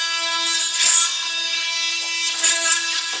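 Oscillating multi-tool with a wood-cutting blade buzzing steadily through wood, a sustained high-pitched whine with two brief louder surges as the blade bites, heard close and alone.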